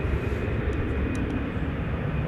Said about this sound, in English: Airbus A319 is off to Silao in Mexico.